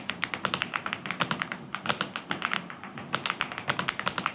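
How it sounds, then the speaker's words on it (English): Rapid, crisp keystrokes clack on an MCHOSE X75 mechanical keyboard, a close, steady run of taps with no talking. "Alright, let's try typing"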